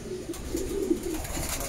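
Prize-winning racing pigeons in a loft give soft, low cooing murmurs that repeat steadily through the clip, fairly close, with faint background noise and no talking.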